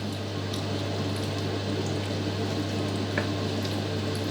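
Pasta carbonara with cream and bacon stirred in a pan, a soft continuous sizzle with faint wet scraping, quiet and steady with a low background hum.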